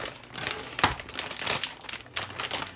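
A plastic package of steamed broccoli is cut open up close, giving soft crinkling and rustling plastic sounds in short bursts over a few seconds, with no speech.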